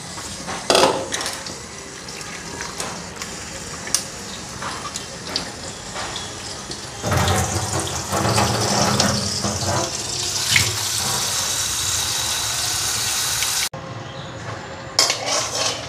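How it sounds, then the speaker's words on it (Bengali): Tap water runs into a sink as soil is washed off potatoes by hand, starting with a light trickle and swelling into a steady, louder gush midway, with occasional clinks of a pot or dish and no talking. "আলুটা ধুইয়া নেই, আলুর মধ্যে যে মাটি"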